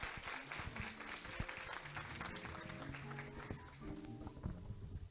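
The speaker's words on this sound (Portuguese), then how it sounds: "Por favor, uma salva de palmas para os nossos sócios fundadores, Dr. André Matos e Dr. Fabrício Fonseca." A symposium audience applauds its founders, with continuous, somewhat distant clapping throughout and a busy, crowded room sound beneath it.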